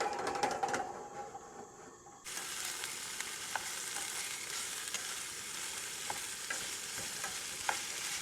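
A plant-based meal stirred and frying in an oiled pan in a camper van, with steady broadband sizzle and scraping stir strokes, quieter for the first couple of seconds, then louder and continuous with occasional clicks.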